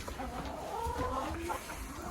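Chickens cluck and murmur continuously at close range, soft overlapping calls with a low rumble underneath.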